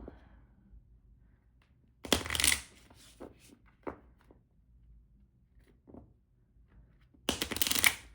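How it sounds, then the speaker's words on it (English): Tarot cards being shuffled close up, two loud riffling bursts separated by softer taps and shuffles of a small deck. "So first, with the major arcana cards, I'll shuffle."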